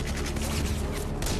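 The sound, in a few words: gunfire sound effect in war documentary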